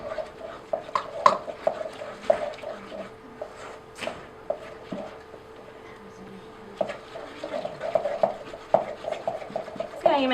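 A spoon stirs almond cardamom ladoo mixture in a bowl, giving soft scraping and occasional knocks in uneven bursts with a quiet pause in the middle, close and gentle.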